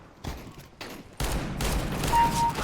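Sniper rifle fire from an AWP in the CS:GO video game, a few sharp loud blasts with echoing tails in quick succession, heard without talk.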